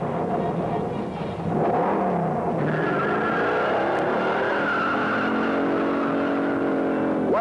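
A 1969 Dodge Charger 500 with TorqueFlight transmission accelerates hard on a test track, tires squealing briefly before the engine roars steadily and loudly as it pulls away, with rising tones sustained throughout.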